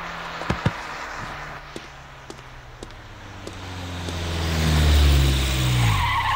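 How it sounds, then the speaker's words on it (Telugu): A car pulls up in front of a house at night, tires skidding and engine rising to a loud close roar near the end, after a few sharp knocks, with no voices. "ఎవడు ఈ టైంలో నా ఇంటి ముందు కారు సౌండ్?"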